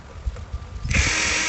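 Power drill with a 1/8 inch bit pre-drilling a pilot hole for lag bolts while installing an electric panel: a few light knocks, then a sudden loud steady whir starting close by.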